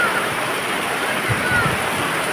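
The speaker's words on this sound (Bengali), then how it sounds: "বাজারের অবস্থা দেখুন বৃষ্টিতে" Steady rain pours over an outdoor vegetable market, a dense continuous hiss filling the whole stretch with no pauses, close and fairly loud.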